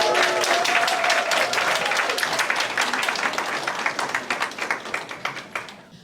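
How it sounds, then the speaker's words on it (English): An audience clapping for a woman at a church panel event, a dense round of applause that starts full and gradually thins to scattered individual claps as it fades out. "Please give Miss Hannah a round of applause."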